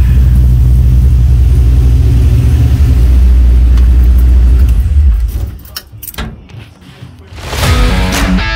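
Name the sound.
1965 car engine rumble with full exhaust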